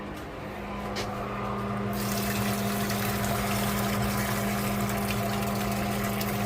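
Water gurgles and drains steadily through a valve from a boat's fuel-water separator over a constant mechanical hum, with no voices.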